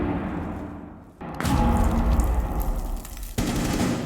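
Rapid automatic gunfire from a first-person shooter video game, loud bursts starting after a brief lull and continuing steadily, with no one talking.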